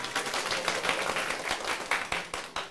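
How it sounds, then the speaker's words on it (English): A classroom audience applauds the winning team of a gamified class competition, many hands clapping in a dense, steady wash with a few sharper claps standing out near the end. "Let's have a round of applause."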